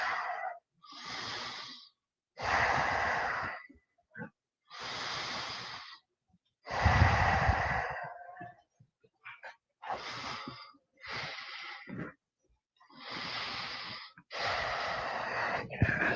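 Slow, deep breaths during a yoga shoulder stretch with a belt, a series of long audible inhales and exhales close by, separated by short pauses, no talking.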